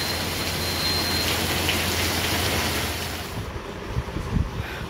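Steady rain pouring outdoors, a dense loud hiss that thins toward the end, where a few low bumps and knocks come through.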